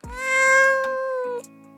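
A kitten meows once as a sound effect, a loud, clear, drawn-out tonal cry that rises, holds and then drops off abruptly, followed by a softer trailing note.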